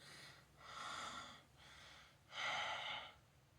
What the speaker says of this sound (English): there was this faint breathing